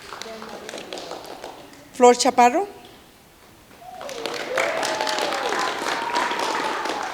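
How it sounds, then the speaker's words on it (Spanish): Clapping from an audience at a graduation ceremony follows a name being called aloud, the applause building and holding steady with a voice speaking over it. "Un aplauso."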